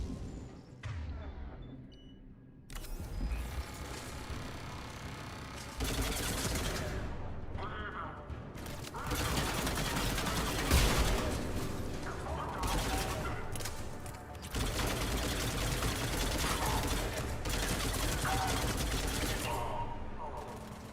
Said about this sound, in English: I didn't realize they managed to get a turret up.